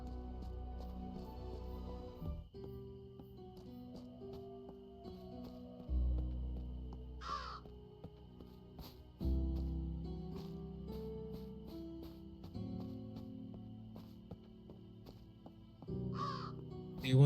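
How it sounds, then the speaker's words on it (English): A raven caws in the dark fantasy game The Necromancer's Tale, two or three harsh, fairly distant calls spaced apart over a moody musical score with low sustained notes. "Did I just hear a raven's fly?"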